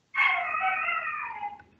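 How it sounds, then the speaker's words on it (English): A dog lets out a single sustained, wavering howl with a whining edge, loud and close, lasting well over a second before trailing off, with no talk over it. "Is that my dog's going crazy?"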